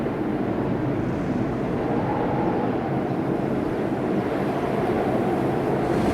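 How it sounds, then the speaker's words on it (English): A helicopter approaching in the video game Artifact Seekers at a polar station, a continuous low rumbling drone that stays steady and fairly loud throughout, with no talk. "That sounds like a helicopter."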